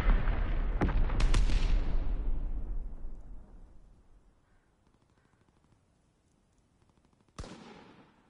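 Mortar rounds fire in a World War II video game: a dense burst of loud, close booms and cracks rolls into a long fading rumble, followed by quiet, then one more sharp distant-sounding blast with a decaying tail.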